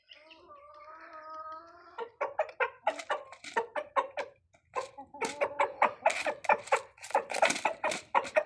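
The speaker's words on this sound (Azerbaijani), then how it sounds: "bu xoruz niyə belə səs çıxardır? Çünki bu səslə xoruz öz toyuqlarını çağırır" A rooster calls its hens to food. Drawn-out calls come first, then a rapid series of close, repeated clucking pulses that grows louder toward the end. No voices.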